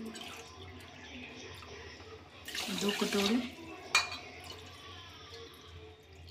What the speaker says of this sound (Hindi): यहीं पे मैं 3 कटोरी पानी डालूँगी